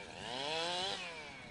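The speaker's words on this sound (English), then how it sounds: "The vibrations of chainsaws" Chainsaws cutting up storm-damaged trees after strong winds on a residential street, a steady loud whining engine drone with a rising and falling pitch, close and continuous with no voices.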